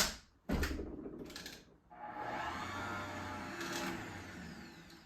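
Electric mixer whirring through pumpkin pie filling, starting and stopping in short bursts before settling into a steady, close motorized hum for several seconds.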